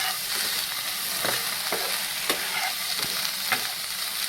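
Paneer roll filling fries on low heat in a pan, giving a soft continuous sizzle with occasional scrapes and taps of stirring, heard alone without talk.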